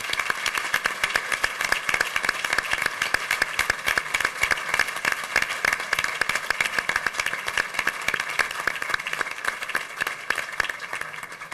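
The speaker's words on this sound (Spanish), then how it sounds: "yo pediría un gran aplauso para el general Pagonis, porque creo que se lo merece" An audience at a democracy club breakfast gives a long ovation for General Pagonis before an awards ceremony, dense, crisp clapping from many hands that stays strong and even for over ten seconds.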